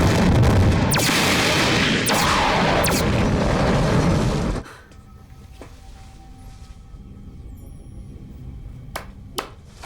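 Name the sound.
spaceship cannons firing in sci-fi TV series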